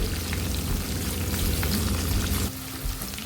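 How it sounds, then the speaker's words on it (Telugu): Sliced onions with curry leaves frying in oil, a loud crackling sizzle that drops noticeably in intensity partway through, close and steady with no talking. "ఉల్లిపాయలను కాస్త కలర్ వచ్చేంత వరకు ఫ్రై చేసుకోవాలి"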